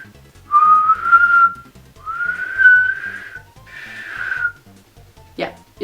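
A person with a split tongue attempts to whistle, producing three wavering, breathy whistle tones in a row, close and fairly loud, followed by a short puff of air.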